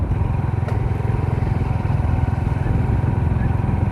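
Several big motorcycles of about 400cc to 650cc pull out onto an expressway, their engines giving a steady, close, pulsing rumble throughout.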